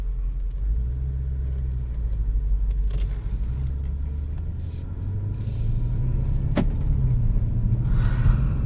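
Interior engine rumble of a 2014 Audi RS7 Prestige while it is driven, a loud, steady low drone that shifts pitch as the car accelerates, with faint cabin noises on top.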